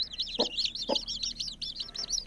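Chicks of a local desi hen cheep in rapid, high, repeated peeps, with two lower clucks from the hen breaking in near the start, all close by.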